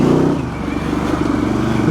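A Harley-Davidson Evo Sportster motorcycle riding through mud, its loud engine drone close and steady with rough clattering texture for about two seconds.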